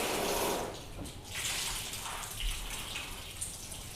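Water splashes and trickles over waxed panels, a soft close spray that fades into a gentle patter, with no voices.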